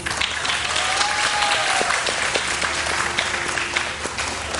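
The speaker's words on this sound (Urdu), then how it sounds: "دیکھیے ڈاکٹر بلقیس, آپ کے لیے تو ہوٹنگ بھی ہو گئی ہے" A studio audience on a Pakistani morning show bursts into dense, steady applause with some cheering, loud and close, lasting the whole stretch with no talking over it.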